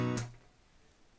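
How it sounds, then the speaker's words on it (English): A palm-muted strum on an acoustic guitar: one bright strum chord rings briefly near the start, then quickly damps into a short, dull decay with no voices. "a down strum followed by an up strum, and then a palm mute"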